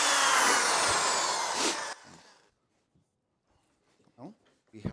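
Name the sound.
power drill drilling into wood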